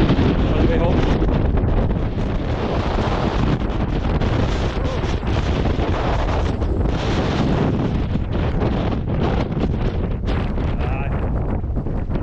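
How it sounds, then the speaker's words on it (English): Strong wind gusts buffet the microphone on a high mountain ridge in the Cairngorms, a loud, continuous roar with surging blasts throughout. "Now you watch here with these gusts."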